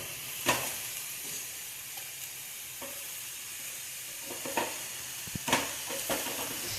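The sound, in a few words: broccoli and lentil usili sautéing in a pan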